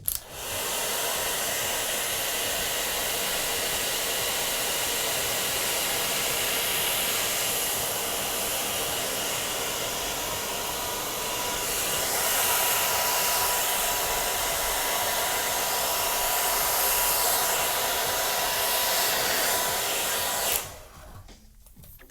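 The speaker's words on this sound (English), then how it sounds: "You got a hairdryer, which produces heat." A hair dryer heating a shoe upper blows steadily with a loud, even whoosh and motor whine for about twenty seconds, then switches off abruptly.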